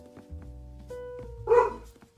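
A few dogs bark and yip in short, scattered bursts in a quiet indoor room. A louder bark lands near the middle, with faint background hum around it.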